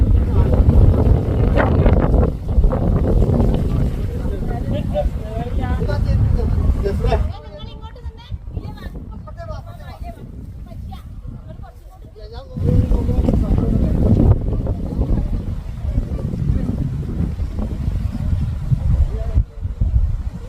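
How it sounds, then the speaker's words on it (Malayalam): Strong wind gusts at a mountain cave about 3,500 feet up, roaring loudly across the microphone, easing to a quieter stretch midway before surging back hard. "വൈകുന്നേരം ആയപ്പോഴും നല്ല കാറ്റടിച്ചോണ്ടിരിക്കും"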